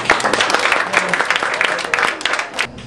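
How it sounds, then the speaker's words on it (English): A classroom audience gives a round of applause, dense steady clapping from many hands sustained throughout, moderately loud and close, with some voices mixed in. "Big round of applause"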